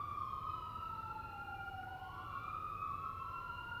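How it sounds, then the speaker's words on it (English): Emergency vehicle sirens wail continuously in the distance, their rising and falling tones overlapping above a steady low rumble of traffic. "Listen to the sirens."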